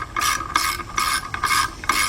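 A ratchet tightens an oil pump bolt during a Chevy Equinox engine rebuild, clicking in five quick, close bursts with a steady rhythm and no talking.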